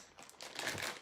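A plastic bag of candy melts crinkles briefly as it is handled and opened in a kitchen, a soft, close rustle lasting about a second.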